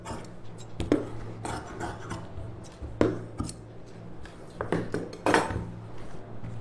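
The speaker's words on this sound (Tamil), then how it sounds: "நம்ம எக்ஸ்ட்ரா ஒரு பட்டி பீஸ் கட் பண்ணிக்கலாம்." Scissors cut a strip of fabric for tailoring, with a lining piece already cut: close, uneven snips and sharp metallic clicks over a steady low hum, with no talking.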